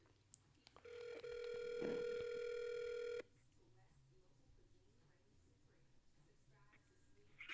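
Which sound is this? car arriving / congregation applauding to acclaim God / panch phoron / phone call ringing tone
phone call ringing tone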